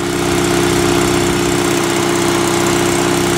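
A Sears SS16 lawn tractor engine idles steadily after a cold winter start, a loud, constant low mechanical drone with an even throb and no pauses or talk.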